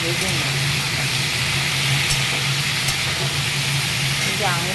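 Vegetable curry frying in a pan after turmeric and salt are added, a steady close hiss and sizzle running throughout, with a low hum underneath.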